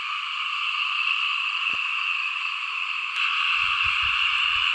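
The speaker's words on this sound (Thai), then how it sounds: "ยังมีเสียงกบเสียงเขียดยังห้องอยู่พี่น้องเลย" A dense chorus of frogs croaks steadily and loudly throughout in a rice field, with occasional low thumps near the end.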